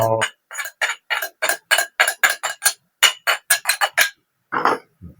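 Rhythmic wooden pounding of chili with a pestle in a mortar, about twenty sharp close thuds in a steady beat, briefly pausing near the end.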